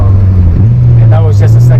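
A Honda Integra Type R DC2 accelerates from the cabin, its engine note climbing as a loud steady drone, with a voice speaking over it near the end.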